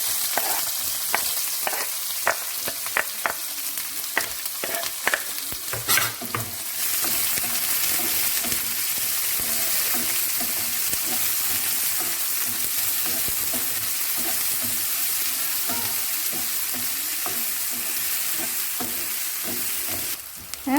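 Steady oily sizzling of onions frying as a tempering for potato fry, with occasional stirring clicks and scrapes early on, continuous and close with no talking.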